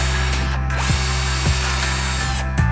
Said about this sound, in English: we're going to flip the basket over and drill 2 holes into it